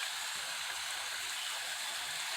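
A waterfall in a canyon gives off a steady, even hiss of rushing water, moderately distant and unbroken for the whole stretch, with no voices over it.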